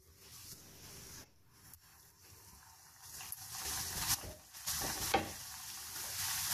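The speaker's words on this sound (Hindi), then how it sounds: "अब ये जो मैंने रोल बनाए हैं इसको फ्राई करते हैं, शैलो फ्राई करना है।" Chicken rolls shallow frying in hot oil in a frying pan give off a steady sizzle that builds louder over time, with occasional stirring or shifting noises and no voices.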